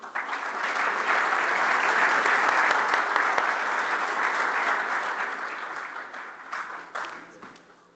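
An audience at a Portuguese safety meeting applauds a named pair, steady sustained clapping from many hands that holds loud for several seconds and then thins out, with a few louder claps near the end.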